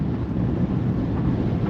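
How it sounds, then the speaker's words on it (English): Strong wind buffets a car on a busy street while the turbo boost runs, making a steady, close, heavy low roar that stays even throughout with no talking. "it is really windy"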